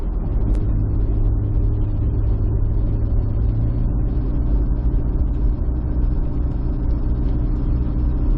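Vehicles on the road, engines rumbling loud and steady with a constant low drone, sometimes revving, for several seconds with no break.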